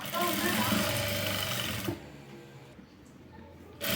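A domestic sewing machine runs steadily while stitching leaf-pattern piping trim, a dense close whirring for about two seconds before it stops, leaving near-quiet room tone, then starts again at the end.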